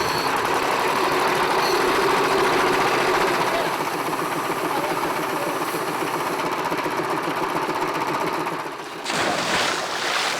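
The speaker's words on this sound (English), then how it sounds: "He'll breathe air through a hose pipe that's connected to a compressor that's over 50 years old" Compressor over 50 years old feeding air through a hose to a diver, chugging loudly and continuously in a rough rhythmic drone that dips briefly and shifts near the end.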